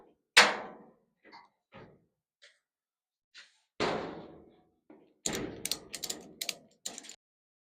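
A 1937 Chevy truck cab door is fitted during a chop job, with a sharp metallic slam, a few light taps and clunks, a second heavy thud, then a quick cluster of knocks and rattles, all close and with no talking.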